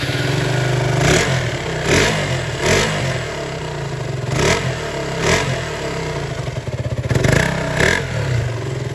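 A KTM RC200 motorcycle engine runs after a timing chain repair, idling close up with a steady mechanical clatter and several short, sharp throttle blips spaced through the clip.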